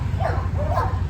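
Two short dog barks, a bit distant, at a dog show in Thrissur, sound over a low, steady background hum.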